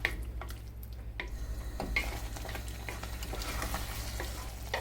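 Ground fennel and fenugreek being stirred into a chili prawn curry in a pan, soft spoon scrapes and clicks over a low steady simmering sizzle, close and fairly quiet, with no voices.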